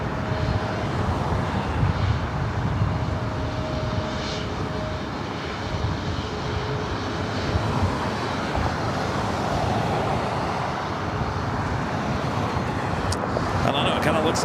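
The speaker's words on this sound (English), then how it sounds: "Next arrival at United Airlines Flight 1227 coming up from Dulles on a 737-900 ER" A United Airlines Boeing 737-900ER arriving at LAX from Dulles makes a steady loud engine roar throughout, with a voice talking over the jet noise.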